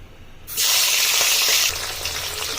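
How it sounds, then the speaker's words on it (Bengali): Salted, turmeric-coated tangra fish dropped into hot mustard oil, bursting into a loud close hiss and sizzle after a brief quiet start, then settling into a steadier frying crackle. "মাছগুলোকে এইভাবে কড়াভাবে ভেজে নেব"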